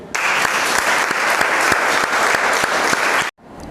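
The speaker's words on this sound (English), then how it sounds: "So please clap for Chintu." An audience in a school classroom at Sunrise Public School claps steadily and loudly for about three seconds before the applause cuts off abruptly into quiet.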